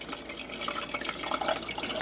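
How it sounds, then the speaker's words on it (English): Chicken broth pours into canning jars in a continuous close trickle and splash, with small gurgles and drips throughout, no talking. "So I'm going to go ahead and just pour some chicken broth."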